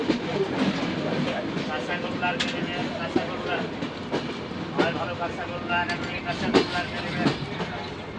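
A train at Pakshi railway station in Bangladesh rumbles and clatters steadily, with repeated clicks and knocks over a dense roar, while people talk nearby.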